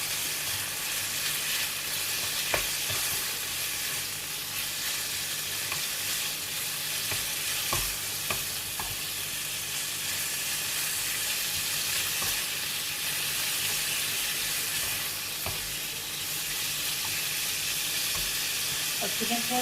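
Chicken sizzles and fries in a pan with salt, stirred steadily with a utensil that scrapes and clinks now and then, a continuous close hiss throughout.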